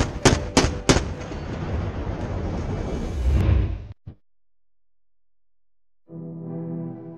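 A MK-110 57mm naval gun aboard a U.S. Navy littoral combat ship fires three sharp, loud rounds in quick succession, followed by a sustained roar that cuts off abruptly into silence before a tonal hum returns.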